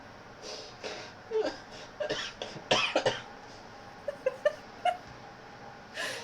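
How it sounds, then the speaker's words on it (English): Scattered coughs and raspy, breathy sounds over a faint noisy background, irregular and moderately close. "There's your wheezing and coughing."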